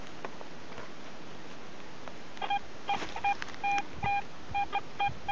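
A Garrett AT Pro metal detector gives a warbling tone roll, a string of short, clipped beeps of uneven spacing that start partway in and repeat over a steady background hiss, with no talking.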